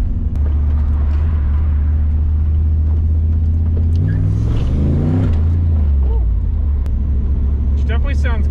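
Camaro IROC Z28 pulling away from a stop with its windows down, a loud deep engine rumble that rises in pitch through a revving launch, followed by a quick shift, with a voice heard over it.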